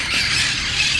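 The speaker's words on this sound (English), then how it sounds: "This is the big one, the larger parrots." Large parrots squawk in a harsh, continuous burst outdoors in Los Angeles, loud and close for a brief moment with no voices.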